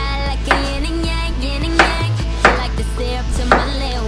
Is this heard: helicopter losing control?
no